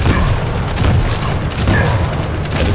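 Rocket explosions in the arena shooter Quake Champions, loud booming blasts and rumbling impacts layered with chaotic gunfire and game effects, dense and continuous throughout.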